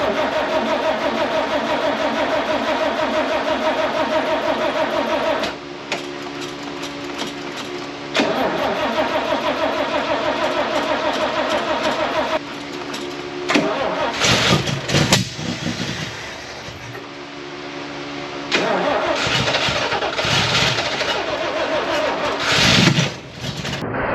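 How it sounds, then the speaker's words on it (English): An engine fitted with a new carburetor cranks over and fires up, loud near churning that catches into running with several stops and restarts, a few brief voices heard between attempts. "try and crank it over, see if it'll fire up on this"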